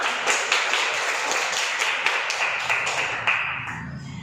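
Audience applause at a ceremony honouring a test topper, a sparse, uneven patter of hand claps with scattered louder taps that thins out toward the end, no talking.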